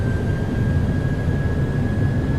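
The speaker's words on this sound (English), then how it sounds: "Takeoff power is set." Twin jet engines of a PMDG 737-800 roar at takeoff power in a flight simulator, a loud, steady broadband rumble with a thin high whine running through it and no voices.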